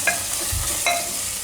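A utensil stirs ground coriander-cumin and red chilli powder in a pan, giving two short scraping swipes over a faint background sizzle.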